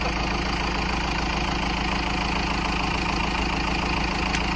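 A Cummins diesel engine idles steadily close by, a constant low rumble and chug with no change in pace throughout.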